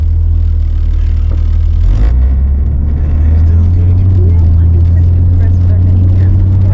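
A 2005 Toyota Sienna two-wheel-drive six-cylinder minivan with 247,000 miles strains up a steep dirt hill, its engine a loud, close, sustained drone that shifts pitch around two seconds, with people talking over it.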